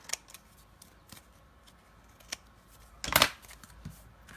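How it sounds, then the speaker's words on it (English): Paper trimmer blade cutting cardstock while making a rainbow card, with a few soft scattered clicks and handling noises and then one brief, louder slicing swipe near the end, close and without talk. "I'm going to put it over, and then we'll trim it"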